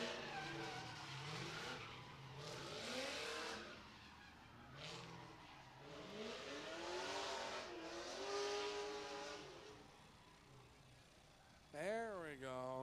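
A drift car's engine revs and winds up and down at a track, with a Lexus IS 300 among the cars present. Rising and falling engine pitch and tire noise run through, and a sharp rev near the end.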